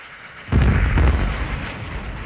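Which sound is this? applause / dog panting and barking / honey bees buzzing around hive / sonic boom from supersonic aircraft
sonic boom from supersonic aircraft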